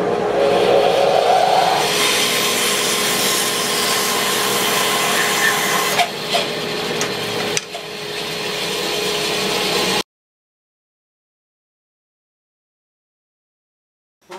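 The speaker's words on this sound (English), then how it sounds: "cut these blocks into two" A power saw whines loudly and steadily through wood blocks for about ten seconds, with a couple of brief dips, then cuts off into silence.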